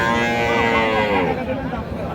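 A cow moos loudly and close at a busy Bangladeshi cattle market in Raniganj, Dinajpur, where local dairy cows with calves are sold; one long drawn-out bellow rises over the steady crowd murmur.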